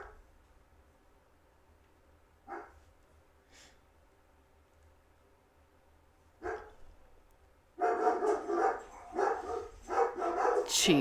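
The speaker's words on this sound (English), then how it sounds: "Jeez, the dogs." Dogs bark indoors: a couple of isolated barks early on, then a sustained burst of loud, repeated barking toward the end, with a faint voice briefly audible.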